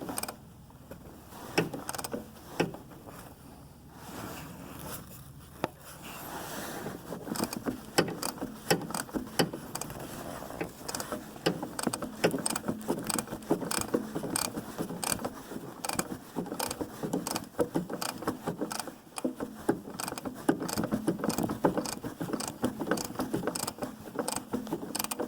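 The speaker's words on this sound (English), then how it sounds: "Let's wiggle this socket out of here and wrench." Ratcheting socket wrench working loose the oil drain plug under a 2014 Chevy Cruze Diesel, a steady run of quick close clicks and mechanical rattles lasting the whole stretch, moderately loud with no talk.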